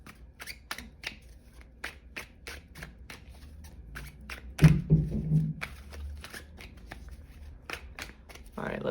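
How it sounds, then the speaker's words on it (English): Tarot cards are shuffled and moved by hand, producing a steady series of quick riffling snaps and soft slides, close up, with a short stretch of quiet speech partway through. "Let me move the cards real quick."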